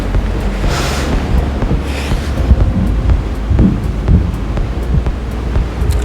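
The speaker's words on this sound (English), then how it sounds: "But you do get to hear these beautiful ocean sounds." Ocean waves wash and rush outside a cruise ship cabin on Royal Caribbean's Odyssey of the Seas, mixed with gusting wind buffeting the microphone, steady and fairly loud with no talk.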